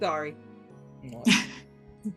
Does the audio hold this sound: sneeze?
yes